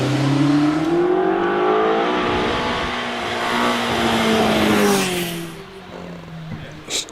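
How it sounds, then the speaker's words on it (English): A Mazda MX-5 race car launches off the line at a hillclimb, its engine revving hard through rising gears close by, then fading into the distance, with a voice talking over it. "Stuart Hook goes off the line in the Mazda MX-5"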